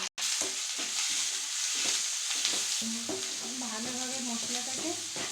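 Ground ginger, cumin and garlic paste is stir-fried in a pan, with continuous close sizzling and repeated scraping strokes of a spatula and a few clinks, all without talk.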